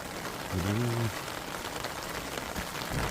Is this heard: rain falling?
yes